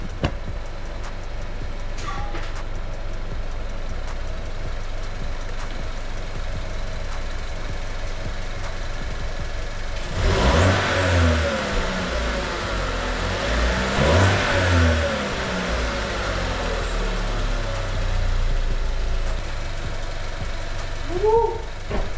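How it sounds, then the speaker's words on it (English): A 2017 Chevy Trax with a 1.4 turbo engine and aftermarket downpipe idles nearby, then revs hard twice with rising, rasping surges that fall back to idle. "it made the turbo a lot louder"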